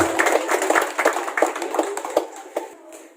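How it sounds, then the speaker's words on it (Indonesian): A crowd at a political rally in Humbang Hasundutan, Indonesia, claps in a loose, rhythmic patter that thins out toward the end, moderately close, with some voices faintly underneath. "Tepuk tangan dong untuk penasihatnya, Pak Sabura."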